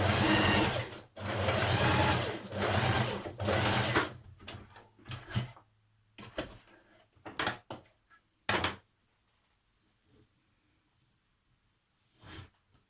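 A domestic sewing machine stitches the back of a jacket collar in several loud bursts, a long run first and then shorter spurts separated by pauses, with a few faint handling knocks near the end.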